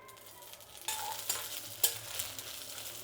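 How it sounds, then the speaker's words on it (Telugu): Curry leaves and chillies hitting hot oil in a kadai, a quiet hiss that jumps into a louder crackling sizzle with sharp spitting pops, close and continuous. "ఇదే కడాయిలోనే కరివేపాకు, అలాగే మిరపకాయలు. దీన్ని కొంచెం బాగా వేయించుకుందాము"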